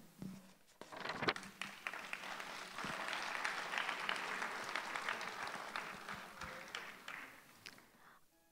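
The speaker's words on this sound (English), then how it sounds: "Let's give Dr. Neda June D. Salazar another warm round of applause" Audience applause fills a graduation ceremony at a Dubai international private school, a broad steady clapping that swells after a few sharp early claps, holds for several seconds, then fades away.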